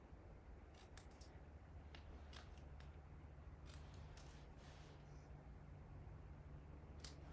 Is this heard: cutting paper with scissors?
yes